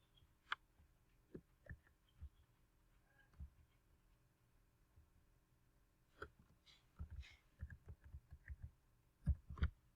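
Sparse, faint clicks of a computer mouse and keyboard keys in a quiet room, with isolated taps early on and a denser cluster of typing strokes toward the end.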